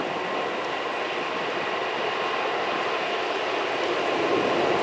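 A big CSX freight train rolls past close by, a steady loud broadband roar of wheels and cars that holds unchanged for the full stretch.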